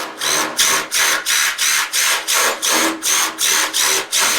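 Power drill widening holes in a 1957 Chevy fender, with a regular series of about a dozen short bright grinding pulses in steady rhythm, close and loud.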